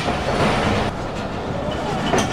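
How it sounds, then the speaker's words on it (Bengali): A passenger train pulls out of Rawalpindi railway station in Pakistan, a steady rolling rumble with wheel clatter and carriage noise filling the space and no talk. "ফাইনালি আমাদের ট্রেন ছেড়ে যাচ্ছে রাওয়ালপিন্ডি থেকে।"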